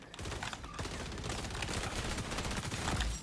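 Rapid bursts of MP7 submachine gun fire in a Call of Duty match rattle loudly and densely, shots overlapping in quick sustained volleys across the whole stretch, with no talk.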